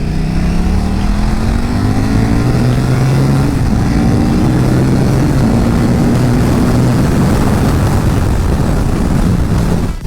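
A KTM RC8-R sport motorcycle engine runs loud and steady close by, its deep droning tone wavering slightly in pitch, with no talking.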